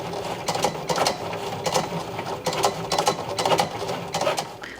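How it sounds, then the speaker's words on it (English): A Cricut Explore 3 cutting machine draws with a pen, giving a quiet, close run of whirring carriage movements and clicking motor bursts in an uneven rhythm. "I love to watch these machines draw."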